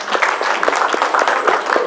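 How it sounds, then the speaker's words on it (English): A convention crowd at Aquatifur gives a fursuiter a brief burst of applause, close and fairly loud, with a few distinct claps standing out from the steady clapping. "Guys, give this adorable fursuiter a round of applause"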